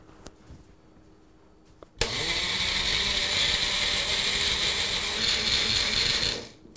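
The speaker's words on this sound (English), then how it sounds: "And we're using a personal blender." A personal blender starts abruptly and runs at a loud, steady whirring roar for about four seconds, pureeing soft food, then cuts off, after a quiet lead-in with a few small clicks.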